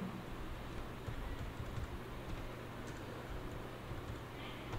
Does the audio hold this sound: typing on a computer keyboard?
yes